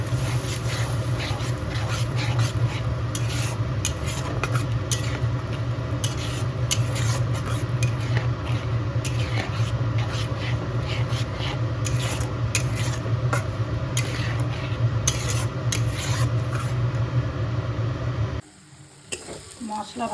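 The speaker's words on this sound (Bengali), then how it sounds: "দিয়ে ভালো করে কষিয়ে নেব।" Masala for bhindi is stir-fried in a pan with a splash of bowl-rinsing water, a loud continuous sizzle broken by rapid scraping and clinking of a spatula, which stops abruptly near the end.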